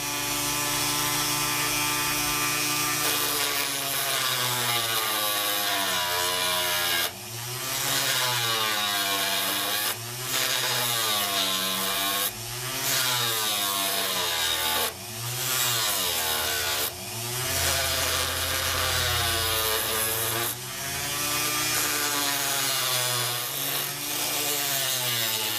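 A wiresmithing machine cuts a groove into metal wire with a loud, continuous grinding whine, pitch rising and falling in regular sweeping strokes, steady and close throughout with no speech.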